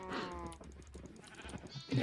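Sheep bleat on a video game farm with cows nearby, with several wavering bleats at the start and a louder cluster near the end over soft background game noise.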